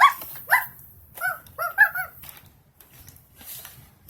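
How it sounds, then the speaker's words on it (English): A small puppy yaps several times in quick bursts, close and loud, with a short growly whine between, then quiet background. "Woof, woof. Calm down, puppy."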